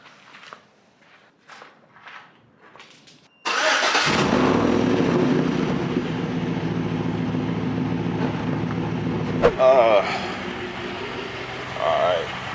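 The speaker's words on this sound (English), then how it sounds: "I'm finna go ahead and start this bad boy up." A truck engine cranks and fires up at close range after a few quiet footsteps, then settles into a loud, steady idle with a brief rev bump partway through.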